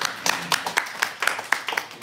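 A church congregation clapping together to welcome back a member home from military service, a brisk run of sharp, irregular claps from a modest crowd, fairly close, with a voice briefly audible alongside.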